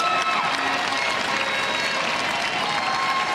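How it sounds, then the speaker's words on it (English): Crowd applauding and cheering at a Paralympic boccia bronze medal match in Paris, steady dense clapping filling the whole stretch at close range with no talk over it. "Cristian Rosado applauds their opponents."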